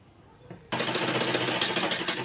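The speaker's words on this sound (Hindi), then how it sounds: "हाफ इंच इस प्रकार से दबाते हुए हम इसमें सिलाई लगाएंगे" A sewing machine stitches a neck strip for an umbrella frock, starting abruptly after a quiet moment and then running loud, close and steady with a fast, even mechanical rhythm.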